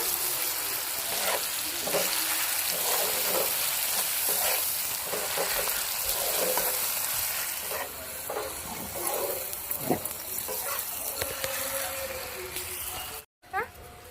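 Chopped tomatoes fry and soften in hot oil in a pan for a banana-flower kofta curry, giving a steady loud sizzle with intermittent stirring scrapes and a brief cut near the end.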